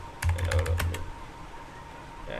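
Brief burst of about half a dozen quick keystrokes on a computer keyboard while typing C code, close and crisp, then fading into quiet room tone.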